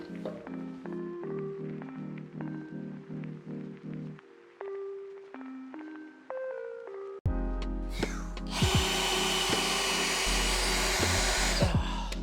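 Power sanding of a wooden table: after a stretch of tonal music, a loud, steady broadband whir starts and runs continuously to the end, close and unbroken.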